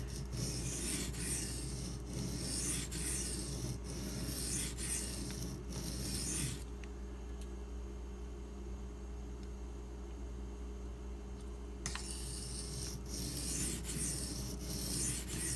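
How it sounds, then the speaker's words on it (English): A D2 steel Benchmade Mini Griptilian knife drawn across a Suehiro G8 silicon carbide stone, making steady rhythmic rasping strokes that stop for several seconds and then resume, fairly quiet and close with no talking. "or as well as I can polish it, on the G8 Suehiro silicon carbide stone"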